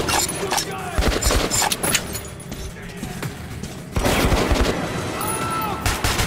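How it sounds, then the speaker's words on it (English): Gunfire in the video game Metro 2033 Redux, a dense burst of shots and impacts crackling over a busy battle mix, loud and continuous across the scene, with a voice shouting over it. "Stop shooting!"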